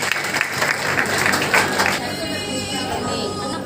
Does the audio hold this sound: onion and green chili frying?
no